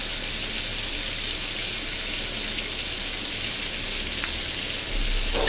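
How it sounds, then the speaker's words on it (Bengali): Shrimp frying in hot oil in a pan, giving a steady, dense sizzle and hiss that runs without a break and swells slightly louder near the end, with no talking. "এখন চিংড়ি মাছটা প্রায় 3-4 মিনিট 5 মিনিট ভেজে নিলেই হবে।"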